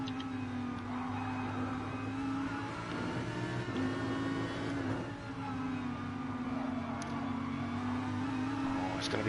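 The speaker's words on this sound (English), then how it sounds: "watch this from on board a Lamborghini with its dirty windscreen" From inside a Lamborghini race car during a British GT Championship round, a steady, muffled engine drone holds a constant pitch with slight dips, heard fairly faintly throughout.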